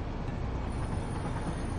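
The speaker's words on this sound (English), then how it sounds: "There should be a train coming, but you never know." A train rumbles past in the Satisfactory video game as a steady, loud broadband roar with no pauses, heard up close and alone with no talking.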